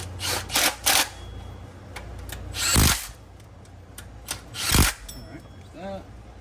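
An impact wrench working on a Toyota Tundra 4.7L timing belt job fires two short, loud rattling bursts a couple of seconds apart, set among lighter tool clicks and handling noises, with someone talking nearby.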